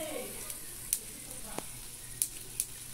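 Onion sizzling in a pot while chicken soup is prepared in a home kitchen, a steady soft frying hiss with a few faint clicks and light stirring taps, fairly close and quiet.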